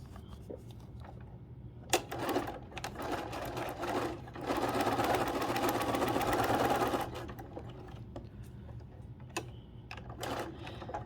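A sewing machine stitches quilt pieces, with a run of rapid mechanical whirring in the middle after a few short clicks and bursts, all close by.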